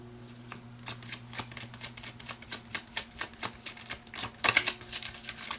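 A deck of tarot cards is shuffled by hand in quick, rhythmic riffles and flicks, close and fairly quiet, repeating steadily with no voices.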